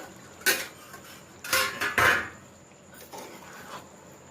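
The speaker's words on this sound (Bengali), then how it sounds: "আমরা এবার ঢাকাটা খুলে একবার দেখে নেব" A lid lifted off a pot of simmering paneer navaratna gravy, giving a few close metallic clanks and scrapes of lid against pan, then a quieter stretch.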